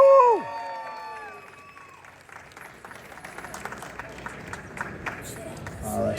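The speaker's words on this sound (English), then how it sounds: "I want a big round of applause for competitor number 67, Kaylee Schumacher." Clapping and scattered cheers from the audience for the Figure Open Class A winner at a figure competition. A high whoop opens the clip, then the applause builds and continues at moderate loudness.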